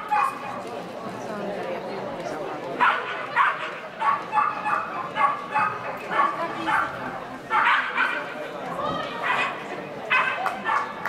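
A dog barks repeatedly in short bursts, fairly close and loud, with some yips and whimpers, while people talk throughout.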